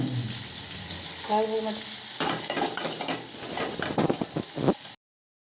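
A tempering for lentil curry fries in a pan, first a brief tone, then close, crackling sizzle with repeated stirring scrapes that grows busier before cutting off abruptly.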